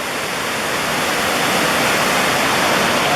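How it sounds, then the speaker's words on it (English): Bog River Falls near Saranac Lake rushes in a steady, dense roar of falling water, loud and unbroken, with no voices over it. "This is the Bog River Falls."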